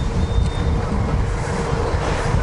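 A tram passes along Swanston Street in Melbourne on an empty city morning, a loud, close, continuous rumble of wheels on rails with a faint squeal, and no talk.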